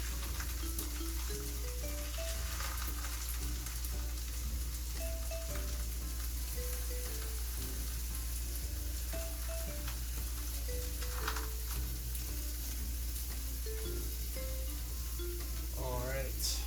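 Cheese quesadilla in a flour tortilla frying on a buttered griddle, a steady soft sizzle running throughout at moderate level, with faint background music and a few light kitchen clatters.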